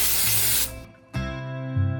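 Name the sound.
Direct Flight dry shampoo sprayed under the hair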